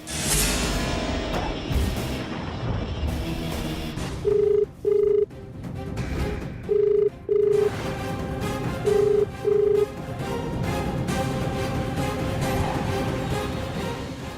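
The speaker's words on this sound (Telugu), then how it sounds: "ఫోన్ రింగ్ అవుతుంది కానీ ఆన్సర్ చేయటం లేదు" Telephone ringing unanswered, three pairs of short electronic ring tones spaced evenly, heard over a continuous background of music and ambient noise in a drama scene.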